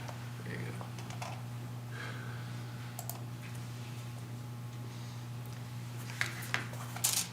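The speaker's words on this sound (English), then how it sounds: "I think I need the keyboard." Light, sparse typing on a computer keyboard during a city planning commission meeting, scattered soft key clicks over a steady electrical hum, ending with a few sharper taps.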